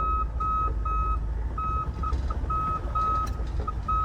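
A truck's shorted backup alarm beeps in uneven, broken bursts during gravel driveway pothole repair, loud and close over a steady engine rumble.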